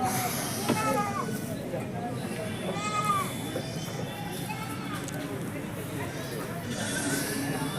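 Goats and other livestock bleating amid a busy cattle and goat market at Chattipparamba, with several harsh, wavering calls rising over a constant crowd babble and nearby chatter.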